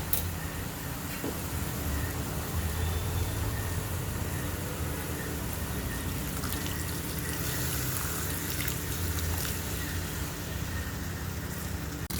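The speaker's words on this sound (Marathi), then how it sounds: "आता आपण त्यात दूध टाकून घेऊ" Milk poured into a pot of cooking grated carrot halwa gives a steady, continuous watery rush throughout, like a running stream, close and even in level with no talking.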